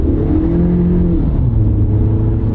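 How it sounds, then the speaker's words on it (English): A Toyota car engine revs up steadily as it accelerates, heard from inside the cabin as a loud continuous drone with rising harmonic tones, no talking over it. "Give it a little gas."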